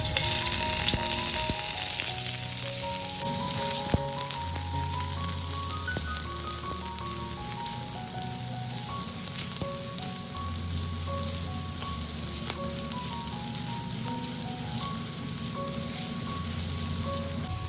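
Sliced onions sauté in hot coconut oil in a pan with a continuous, dense sizzle close by. Quiet background music plays underneath throughout.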